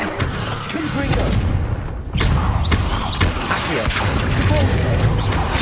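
A Confringo blasting spell explodes in the video game Hogwarts Legacy, a loud booming crash that gives way to dense rumbling debris and game noise, with a voice speaking just before it.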